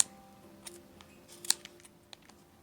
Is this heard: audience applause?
no